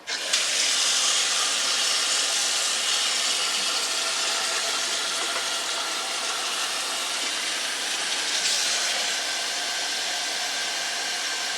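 Hot water from a tap pours steadily into an 8-quart stainless steel bowl, a continuous loud rushing hiss that holds for several seconds, close and without talk.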